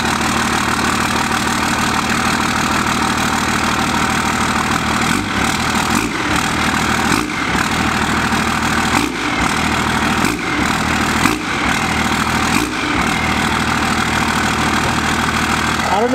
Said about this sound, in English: One of my favorite things about these trucks is just the sound and the smell of diesel as soon as you start